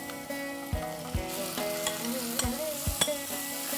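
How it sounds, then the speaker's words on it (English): Marinated mutton sautéing with onions on high flame for a Bengali dak bangla mutton dish, loud continuous sizzle with repeated thuds and scrapes of a spatula stirring in the pan, close with no talking. "Let's stir this well and continue to saute for 3 to 4 minutes on absolutely high flame."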